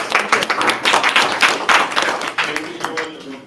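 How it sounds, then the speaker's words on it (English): A conference audience claps for the panelists at the end of a session, a brief burst of scattered handclaps that thins out after a few seconds. "give another round of applause to the panelists"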